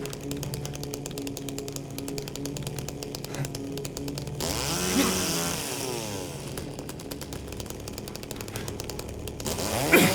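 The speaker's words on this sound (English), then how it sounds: "We got the chainsaw." A chainsaw roars continuously in Silent Hill 2 Remake, loud and close, with a sweeping swell midway as the engine pitch shifts before the steady buzzing returns.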